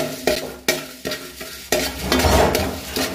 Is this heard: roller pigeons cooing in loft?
no